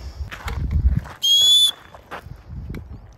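A single sharp, high whistle to call a dog sounds for about half a second amid faint rustling and shuffling movement nearby.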